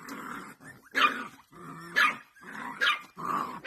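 Small dogs, Cotons, Maltese or Maltipoos, playing with a puppy, with four close bursts of barking and growling separated by short pauses.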